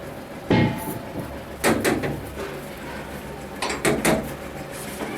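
Someone knocking on a door to deliver a gas cylinder, two separate clusters of sharp raps over a steady background hiss, moderately loud and close with no talk.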